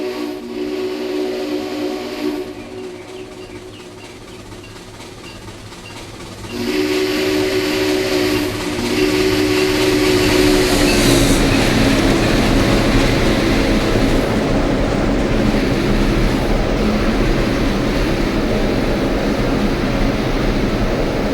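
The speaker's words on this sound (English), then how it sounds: "Running several hours late, Mr. Haywood has the 290 really moving as she flies across the flat Alabama countryside." A&WP 290 steam locomotive racing across flat Alabama countryside, a loud continuous roar of rolling wheels and steam that builds in intensity, with a whistle tone sounding over it.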